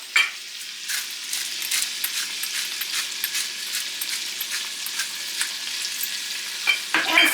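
Steak searing in a hot pan after being salted, a steady close crackling sizzle that runs unbroken throughout, with a few sharper pops near the end.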